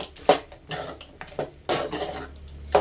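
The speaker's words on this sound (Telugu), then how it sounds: "ఇప్పుడు ఒకసారి మొత్తం కలుపుకోవాలి నీట్గా." Mutton and masala are stirred in a pan, with a utensil scraping and clinking against the metal in a few irregular strokes, close and moderately loud, and no talk.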